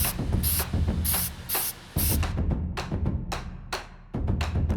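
Testor's Dull Coat varnish sprayed onto a giant spider miniature in short, close hissing bursts of an aerosol can, several separate sprays with brief pauses between them.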